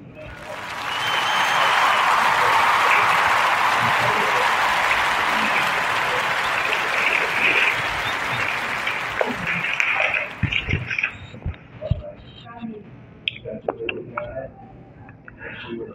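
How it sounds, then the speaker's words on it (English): A podcast audience gives a warm round of applause, a dense sustained clapping that swells early, holds for several seconds, then thins into scattered claps and faint voices. "a warm narrative podcast round of applause for Mrs. Cheryl Underwood."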